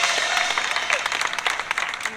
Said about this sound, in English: Let's give an extra round of applause for Huwaida